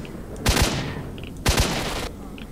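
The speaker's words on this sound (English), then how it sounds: "They shoot out their mags." Enemy automatic weapons firing in the video game S.T.A.L.K.E.R.: Shadow of Chernobyl, two loud bursts about a second apart, each opening with sharp reports and trailing into a long rattling tail.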